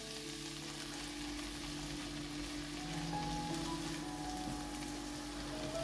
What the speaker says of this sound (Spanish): ponemos la cebolla y los pimientos, los vamos a cocinar aquí durante aproximadamente 10 minutos